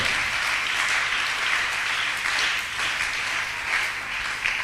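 A church congregation applauds together in a dense, continuous clatter of many hands, steady and fairly loud throughout.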